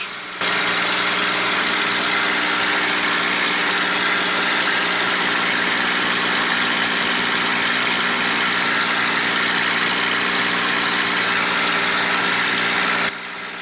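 A Spitfire aircraft's engine drones steadily in flight during aerobatics, a loud, even, unbroken roar with a low humming tone throughout.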